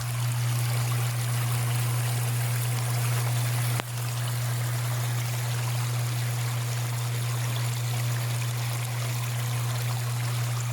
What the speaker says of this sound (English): And water coming out.